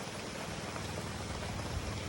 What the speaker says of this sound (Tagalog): Dito kami ngayon na na inabot kami ng ulan.